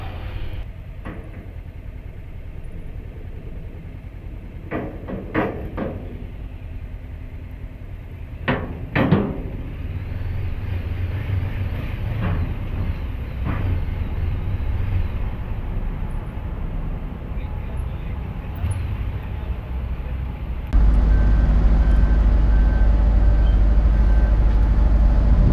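A motorcycle boards a ferry at Caleta La Arena on the Carretera Austral. A low engine rumble runs under loud metallic clanks and thumps from the ramp and deck, then a steady, louder drone.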